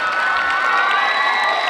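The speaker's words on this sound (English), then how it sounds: "Please give them a round of applause." A crowd at a school character awards ceremony cheers and applauds the empathy award recipients, a loud, steady wash of shouting and clapping with children's voices that holds evenly throughout and has no speech over it.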